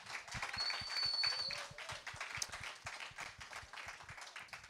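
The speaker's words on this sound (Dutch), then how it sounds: "Geef haar nogmaals een applaus." A church congregation gives a round of applause, a steady patter of many hands clapping at once that lasts several seconds at moderate volume.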